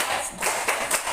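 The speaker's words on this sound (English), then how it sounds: "Let's give Nathaniel a best clap" A classroom full of students claps for a classmate, a short burst of scattered hand claps at moderate distance with no talking.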